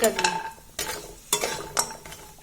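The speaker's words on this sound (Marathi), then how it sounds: "तेलामध्ये भाजून घ्यायचे आहेत मस्त फुलतात ही हळकुंडे तेलामध्ये" Dried turmeric roots roast in hot oil for a homemade Kolhapuri onion-garlic masala, with a spoon stirring them in four distinct scraping, rattling strokes over a quiet sizzle.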